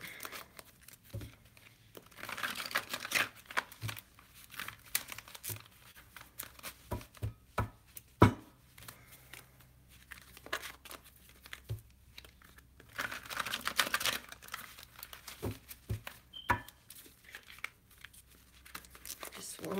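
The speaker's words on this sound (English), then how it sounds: "One more shuffle here, then we'll spread them and see which card we pull for you" Tarot cards are shuffled in repeated quick riffling bursts with crisp flicks and taps, while someone talks softly over them.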